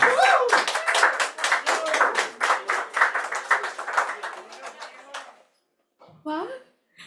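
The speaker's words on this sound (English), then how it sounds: "A round of applause." Scattered claps from an open mic audience come close and uneven for about five seconds, then die away; after a short pause a voice begins speaking.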